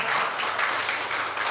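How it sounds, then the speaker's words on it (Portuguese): Applause for Briane from a church congregation during a Sunday service, a steady wash of clapping that holds evenly loud for the whole moment without a break. "Uma salva de palmas para a Briane aí."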